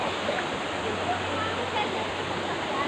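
Steady, broadband rush of falling water at Daranak Falls in Tanay, Rizal, Philippines, continuous and even throughout, heard from nearby with no pauses.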